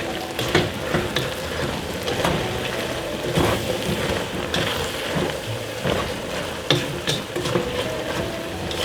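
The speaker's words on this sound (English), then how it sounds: "Okay, a quick stir." Onions for French onion soup sizzle steadily in a pan, with a continuous frying crackle and a few scraping knocks of a utensil as they are briefly stirred, close and fairly loud.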